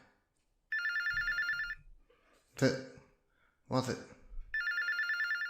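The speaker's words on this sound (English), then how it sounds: "listen to all these phones going off from our call center" Several telephones ring at a charity call center during an all-night punk-themed telethon, loud electronic ring bursts at start and end with voices talking in between.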